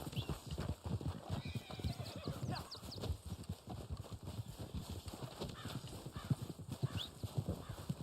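Horse hooves clip-clop at a steady gallop with a neigh in Red Dead Online, loud and continuous, while a person speaks briefly over it.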